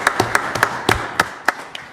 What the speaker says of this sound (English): could we please give a round of applause for our linemen who've been out there working hard on this?